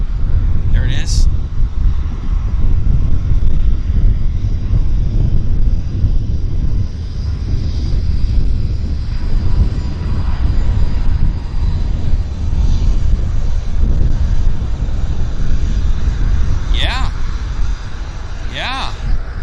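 WestJet airliner taking its takeoff roll at Vancouver airport, a loud continuous engine roar close by, with faint chirping in the background.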